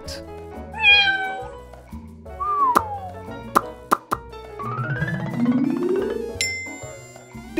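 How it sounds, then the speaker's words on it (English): A single clear cat meow rings out early, then gives way to plucky, bouncing musical notes and sliding tones. "Cat."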